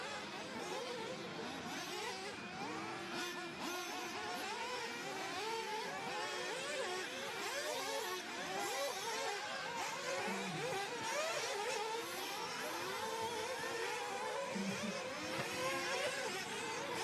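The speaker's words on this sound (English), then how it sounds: "That sounds like Marco down there already warming up his engine" Nitro RC racing buggy engine warming up at an outdoor track, a faint, continuous high-pitched buzz with repeated revving swells, heard from a distance amid background crowd murmur.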